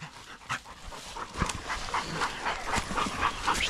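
Overheated coon hunting dogs outdoors on a hot summer night, panting and whimpering close by in a rapid, uneven rhythm with occasional yips, no talk.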